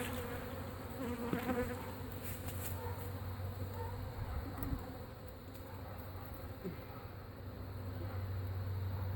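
Honeybees buzzing in a steady, dense drone while a hive is removed from a boat in Auburndale, Florida, with a few louder individual bees passing close over the continuous swarm hum.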